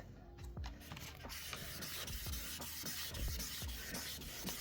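A car headlight lens is wet-sanded by hand with 3000 grit sandpaper on a block, a close, steady run of rhythmic rubbing strokes repeating about twice a second.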